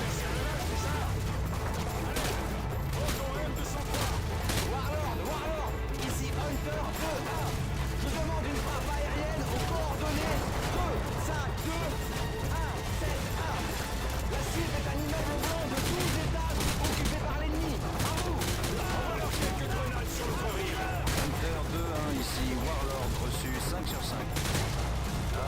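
Dense gunfire from the video game Call of Duty Modern Warfare II, bursts and volleys packed continuously over a loud, busy battle mix for the whole stretch.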